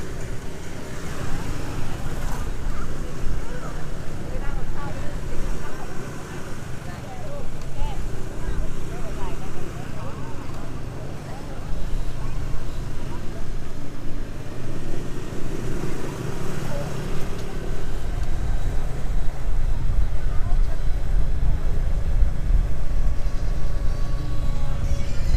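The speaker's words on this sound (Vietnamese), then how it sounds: "Kẹt xe đèo Hồ Tuyền Lâm." Traffic crawls in a jam on the Hồ Tuyền Lâm mountain pass near Đà Lạt, heard from a Yamaha FZ150i motorbike: a steady rumble of engines and road noise throughout, with a rider talking over it.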